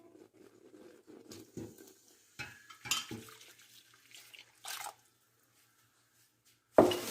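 A quart of broth is poured into a pot that has come back to a simmer: splashy liquid sounds in uneven bursts, then a pause and a sharp knock against the pot.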